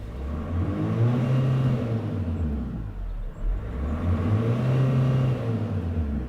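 A Renault Master 2.2 dCi diesel van engine revs up twice, each time rising to a strong roar and settling back to a rumbling idle. The sound is close and loud, and nobody talks.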